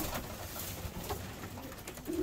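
Pigeons in a breeding loft, a low soft cooing repeated under steady broadband background noise, with a brief burbling coo near the end.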